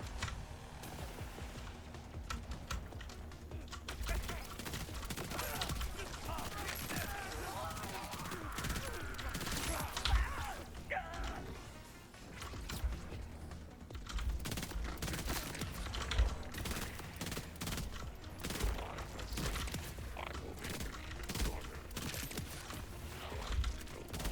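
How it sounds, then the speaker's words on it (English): Steady, fast rattling fire from the Ricochet Darkbeast submachine gun in Borderlands 4 runs almost nonstop against a large group of enemies, with dense clicking impacts and game noise layered underneath. "even before it picks up in speed, it's still a very good submachine gun"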